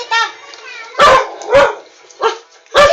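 Dogs barking in a home setting, five sharp loud barks in a loose irregular rhythm with a short whining yip at the start, close by.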